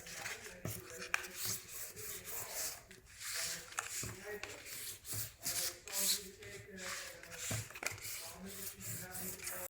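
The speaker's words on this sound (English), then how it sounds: "using the score tool, we can fold all the score lines" Paper envelope score lines are folded and creased with a score tool, giving dry rubbing and scraping strokes in uneven bursts under a voice talking.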